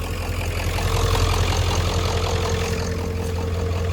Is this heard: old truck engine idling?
yes